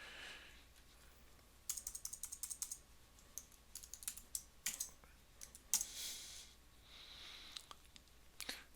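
Quick bursts of typing on a computer keyboard while IDs are entered for tiles in a scripting tool, clustered keystrokes with a few sharper key hits like enter presses, quiet and close with no talk.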